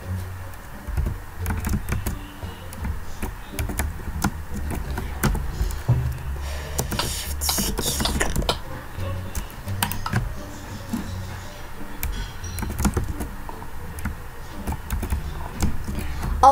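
Rapid clacking keystrokes on a computer keyboard during a Minecraft chat, close and continuous in uneven bursts, with occasional quiet voices in the background.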